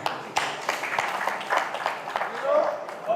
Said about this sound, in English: Please clap for this gentleman again.